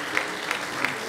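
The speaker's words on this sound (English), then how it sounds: "Why don't you clap your hands and praise him?" Congregation at a Pentecostal church service in Columbus, Ohio, clapping hands in praise: about three sharp, evenly spaced claps in a short, fairly quiet burst, with some voice sound mixed in.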